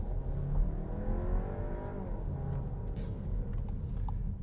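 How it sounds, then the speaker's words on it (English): Turbocharged four-cylinder engine of a 2021 VW Tiguan R-Line SUV droning steadily while driving, a gruff, gravelly hum with faint road noise and no exhaust burble. "If I just turn around here for a second, and maybe you'll be able to hear the engine note."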